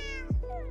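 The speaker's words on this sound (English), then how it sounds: "I think that's my cat though." A house cat gives a single short meow close by, over a steady background tone from a Minecraft game.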